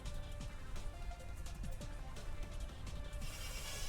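Steady rain falling during a Pokémon battle in a video game, a continuous soft patter with faint ticking drops throughout, no voices over it.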